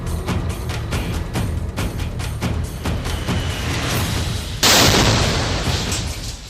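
A rapid series of sharp cracking bangs, followed by a louder blast from a flag hung on barbed wire that roars and slowly fades.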